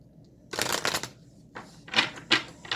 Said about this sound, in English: now I'm going to pull Star Dragoon's card for you